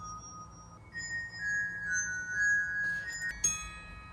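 Soft glockenspiel notes ring out in a quiet studio with long, pure sustained tones, a few struck one after another, with a brighter sharp strike near the end.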